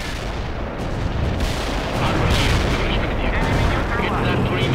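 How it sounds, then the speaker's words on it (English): Gunfire and artillery in the real-time strategy game World in Conflict, heard as dense, continuous rumbling booms and rattling shots that swell louder midway, with a game voice speaking over the battle. "Firing at the enemy."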